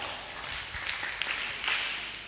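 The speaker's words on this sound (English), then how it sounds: "Clap for yourselves." Group of children applauding themselves at a Day of the African Child roadshow, a soft, dense patter of many hands that holds steady for a couple of seconds.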